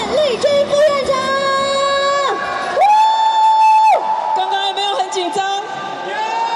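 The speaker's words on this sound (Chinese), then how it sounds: "来，我们热烈掌声来欢迎我们的郑丽君副院长。" Audience clapping and cheering to welcome Taiwan's vice premier at a gold-medal celebration event, with crowd shouts and amplified voices over the noise, loud and continuous.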